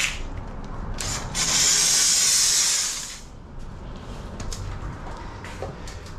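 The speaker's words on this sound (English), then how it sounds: "It's definitely a professional steamer and it has some jam to it." A heavy professional steam cleaner on full blast blasts steam over the exterior of a 2020 Ford Edge, a loud close hiss lasting about two seconds, followed by quieter intermittent puffs and a low background hum.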